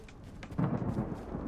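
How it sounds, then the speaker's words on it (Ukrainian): A video game thunderstorm rolls with low, rumbling thunder that swells partway through and lingers at moderate loudness, a soft rain-like wash underneath and no talking. "І підемо в грозу"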